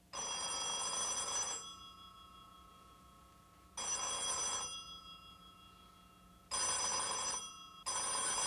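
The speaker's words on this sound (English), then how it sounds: "Sir, it's General Bedell Smith on the phone" Old-style office telephone bell ringing in a 1940s military headquarters, three long, loud rings separated by pauses, then a fourth starting, with no talk over it.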